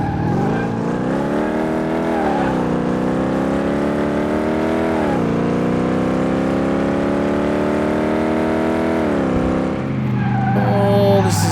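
A car in the Car Mechanic Simulator 2018 video game, a BOSS 302, drives a track with a sustained engine whine and tire-skid tone that rises and falls in pitch over several seconds.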